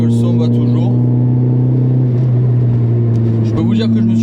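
A Peugeot 106 Rallye engine drones loud and steady from inside the car while driving, its strong harmonic hum rising slightly in pitch near the end.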